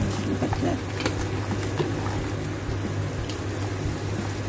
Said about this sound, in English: We just cover it and let it boil for a while.